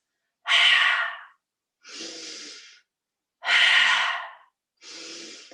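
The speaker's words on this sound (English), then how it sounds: "Breathing in through the nostrils," Four slow breaths are taken in and let out through the nose. Each audible airy inhale alternates with a softer exhale, and silence falls between them.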